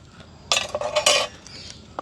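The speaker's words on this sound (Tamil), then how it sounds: "இப்படியே நல்ல வடிவாக கலந்து விடுவோம்" A few scraping, clinking strokes of a utensil stirring a semolina vada batter in a metal pot, brief and close, then quiet.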